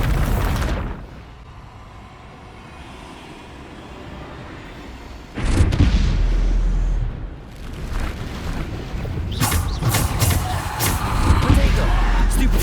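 Bombarda blasting spell detonating in Hogwarts Legacy, a heavy booming explosion bursting out mid-clip with a rumbling tail, followed by further sharp crackling impacts and debris amid game combat noise.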